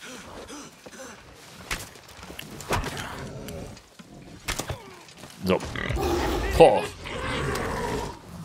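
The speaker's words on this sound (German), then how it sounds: "Ist geil, wie das Schwein den gleich über den Haufen gerammt hat." Pig grunts and snorts from the video game Far Cry New Dawn mix with impacts and roaring noises, while someone talks over them intermittently.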